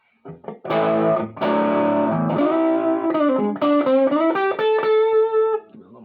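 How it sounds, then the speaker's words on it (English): Electric guitar through an MXR Custom Badass '78 op-amp distortion pedal, a fizzy, saturated tone playing a short phrase of sustained chords that shift and end in single held notes, loud and alone. "It's an op-amp style distortion from what I understand."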